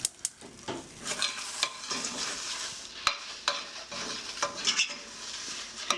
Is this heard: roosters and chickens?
no